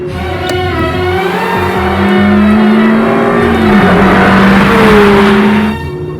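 Powerful car engine revving hard and accelerating at high speed, its rising and shifting pitch loud and continuous with a brief dip near the end, no voices over it.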